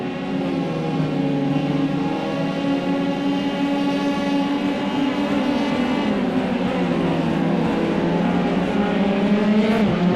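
F3 race cars screaming down the back straight in iRacing, high engine notes climbing steadily and loud with layered harmonics from several cars, no talk over them.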